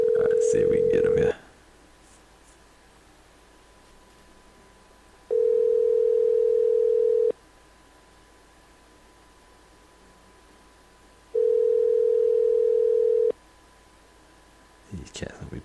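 A phone call rings out with long, steady tones repeating at regular intervals on the line, each lasting about two seconds with quiet gaps between, followed by a short burst of noise at the end.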